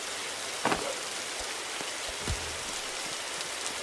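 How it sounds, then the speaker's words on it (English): Steady rain falls in the survival game 99 Nights in the Forest, a constant even hiss of drops with a couple of brief louder knocks, no voices. "why does it rain so much?"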